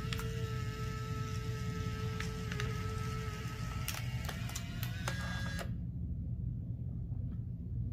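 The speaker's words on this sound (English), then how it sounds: "once the printer has stopped making noise" A Fujifilm Instax Mini Link 2 instant photo printer whirs and hums mechanically with a few clicks, then stops abruptly, leaving a quiet low hum.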